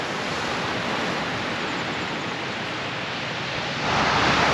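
Ocean waves washing onto the beach at St Helens on a wet day, a steady broadband roar of surf that swells louder near the end, with no voices.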